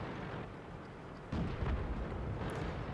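Tank guns fire in the World of Tanks video game, with a heavy muffled boom breaking in partway through over a low rumbling battle background, heard fairly faintly with no talk.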